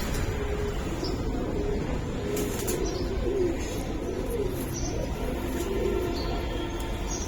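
Giribaz Pankhi pigeons coo in a loft. Soft, repeated rolling coos sit close over a constant background hum, with faint chirps scattered throughout.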